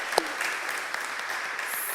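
A church congregation breaks into steady applause for pledged community donations, a dense, even wash of many hands clapping at moderate level for about two seconds, with a brief voice near the start.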